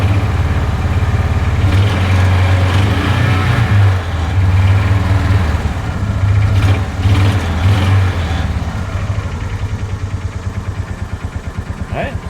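A John Deere Gator 4x2 utility vehicle engine idles on a cold start after a tune-up, a steady low rumble with occasional throttle surges, heard close over background noise.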